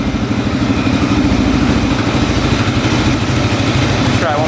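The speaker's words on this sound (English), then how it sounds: "Idling really nicely too without the choke on" Street legal dirt bike engine idling steadily without the choke, a close, loud, even low putter with a constant rhythm and no revving.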